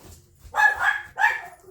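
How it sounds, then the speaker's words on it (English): A dog barks twice indoors, two short, sharp yaps close by in quick succession over a quiet room. "Sorry about my dog."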